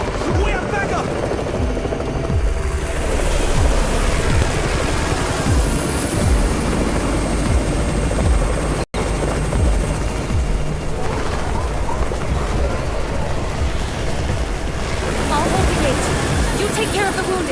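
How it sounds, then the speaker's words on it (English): A helicopter arrives in the Garena Undawn video game, its rotor throbbing loudly and continuously beneath game voices and battle noise, the sound swelling as it approaches. "It's the Raven's chopper! We have backup"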